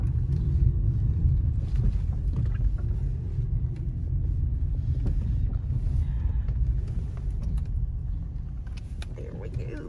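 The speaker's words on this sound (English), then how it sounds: "I'm gonna go pull in my car to the back" A car pulls around to the back of a property over a short stretch, giving a steady close low rumble of engine and road noise with wind buffeting, while someone talks inside.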